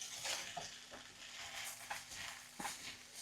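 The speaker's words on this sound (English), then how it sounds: "Let that fry." Chicken for orange chicken or General Tso's fries in a pan with soy sauce, giving a close, steady sizzle broken by a few scraping stirs and a faint low hum beneath, with no voices.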